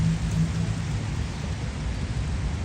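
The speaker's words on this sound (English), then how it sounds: "it's starting to rain again" Steady rain falls outdoors as a broad, constant hiss with a low rumble underneath, close and even throughout, with no voices.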